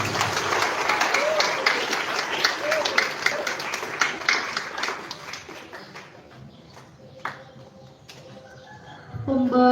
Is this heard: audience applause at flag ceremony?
yes